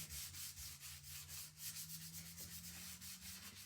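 Small sander rubbing sandpaper across a wooden lantern kit piece, a steady close scratchy buzz with rhythmic back-and-forth strokes over a low motor hum, no talk.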